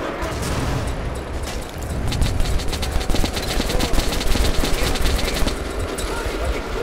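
Gunfire in the video game Metro Last Light comes as dense rapid bursts of automatic shots, loud and sustained for several seconds, with a short gap near the start and faint talk underneath.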